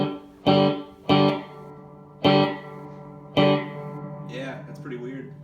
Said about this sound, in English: I'm not overly impressed with the reverb on this.